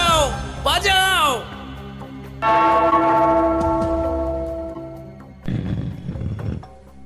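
A bell rings out in a Gopal Bhar cartoon, one clear ringing strike that fades slowly. Voices speak before it and again just after.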